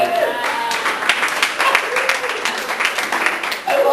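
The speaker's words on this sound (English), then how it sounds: "When I say I've been married for 18 years, women all start applauding" A comedy club audience bursts into applause, led by women, a steady wash of clapping with cheers filling the room over about four seconds.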